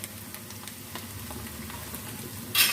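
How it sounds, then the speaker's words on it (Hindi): Whole spices, green cardamom, cloves and cinnamon, frying in a pan for keema daal, a soft steady sizzle with light crackles and a brighter hiss at the very end, no talk. "खड़े मसालों को भी हम 1 मिनट के लिए फ्राई कर लेते हैं।"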